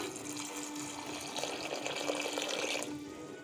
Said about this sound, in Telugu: నీళ్లు వేస్తున్నాను